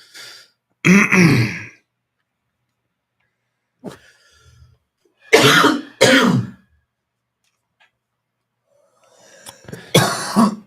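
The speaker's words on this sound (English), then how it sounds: "Holding in a cough." A person holds back a cough, giving muffled throat clearing in short bursts separated by quiet pauses, close and fairly loud.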